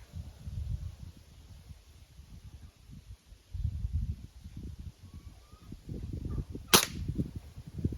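A single sharp, crisp crack of an IZh-38 air rifle firing a percussion cap rings out near the end, standing alone over a low, rustling outdoor background with faint wind.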